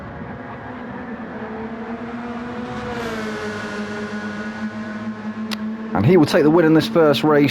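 A Peugeot RCZ race car engine in Gran Turismo 7 holds a steady high drone that rises in pitch as the car crosses the line, with a commentator talking over it throughout.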